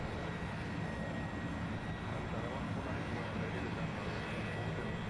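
An Embraer E170 jet in a flight simulator game gives off a steady low engine rumble and broad roar, constant and unbroken throughout.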